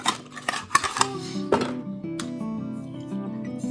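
Hair color is mixed in a bowl for an at-home root touch-up, with clinking and scraping of a utensil against the bowl, a few sharp taps early on, then steadier stirring scrapes.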